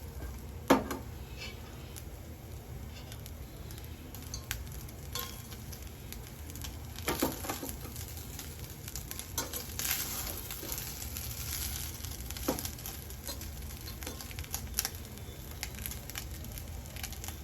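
Jeera rice is being stirred and mixed in a pan, giving soft scraping and sizzling sounds with occasional light clicks of a utensil, faint and fairly steady throughout.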